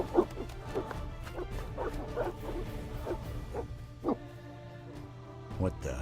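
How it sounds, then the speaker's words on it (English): Evil dogs barking in The Witcher Enhanced Edition video game: several short barks and yips scattered over a steady low background hum, moderately close, with game speech around them. "Oh yeah, they're evil dogs."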